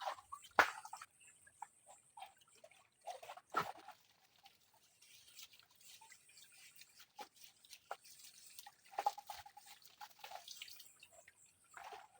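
Spring water drips and splashes faintly and irregularly nearby during bathing at a well, soft patters scattered in an otherwise quiet space.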